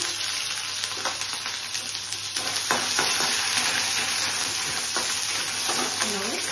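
Crushed ginger and green chillies sizzling in a hot pan for a sesame paneer curry, a dense crackling fry with stirring clatter throughout, close and fairly loud.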